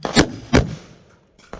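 Two sharp gunshots ring out about a third of a second apart, loud and close with a brief decaying tail, then a third softer report follows after a pause.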